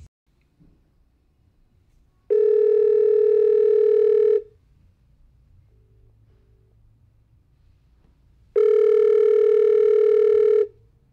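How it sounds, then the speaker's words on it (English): A VoIP desk phone rings in two long electronic bursts of about two seconds each, separated by several seconds of near silence. The tone is loud and close. "if any of these numbers are called now, the desk phone that we've just set up will ring"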